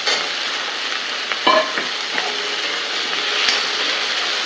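Onion, tomato and pumpkin sautéing together in a pan with salt. There is a bright continuous sizzle, and a spoon knocks and scrapes a few times against the metal.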